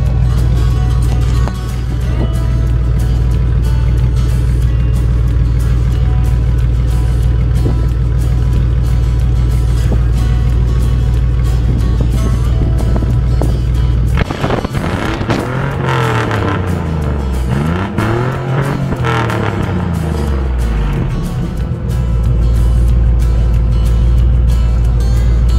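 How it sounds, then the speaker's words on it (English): Loud, continuous car exhaust roar from a side-exit dump pipe, steady engine drone with a burst of revving and pitch swings midway before settling back to a heavy idle rumble. "Seems that I blew the camera over with my exhaust."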